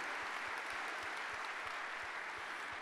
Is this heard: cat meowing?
no